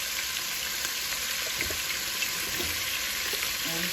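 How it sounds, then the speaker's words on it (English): Pot roast meat sears in a hot pan with a steady, close hiss of frying and a few soft pops and crackles, and no one speaks. "you're gonna fry it on each side for about 2 to 3 minutes on each side"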